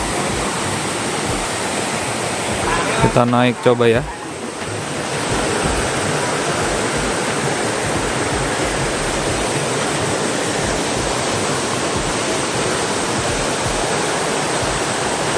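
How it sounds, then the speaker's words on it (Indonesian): The Coban Rondo waterfall in Pujon, Malang, Indonesia roars steadily nearby, a constant wash of rushing water, with a short spoken remark briefly heard over it. "langsung dari air terjunnya mengalir sungai ke bawah"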